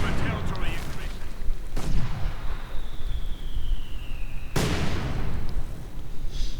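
Field guns firing in the World War II strategy game Company of Heroes 2, with two loud, sharp blasts a few seconds apart, each trailing off into rumbling battle noise under a steady background din.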